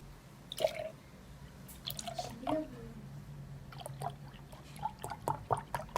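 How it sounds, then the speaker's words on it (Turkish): Cold milk is poured into a glass while making dalgona coffee, with soft intermittent drips, splashes and liquid gurgles, faint and close. "Şimdi bardağımın içerisine soğuk olacak bir şekilde sütümü döküyorum."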